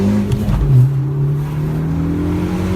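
A Ford ST fitted with a homemade turbo intake accelerates on a test drive, its engine drone holding steady and loud with a rising note, heard from inside the car.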